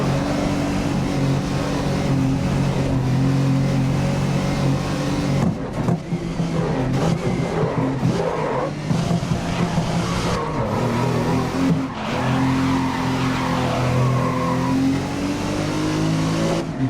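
Race cars in the video game GRID roar continuously through a final lap, engines droning and shifting pitch with revs, faint skids mixed in, loud and steady with no talking.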